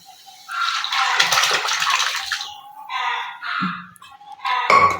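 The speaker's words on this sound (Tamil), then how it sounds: "இந்த குழம்பு வந்து அதில் ஊற்றிடுவோம்" Tamarind gravy poured from a vessel into a pan of yam and spice mix, a close splashing, gurgling pour in several bursts with short pauses, no talking.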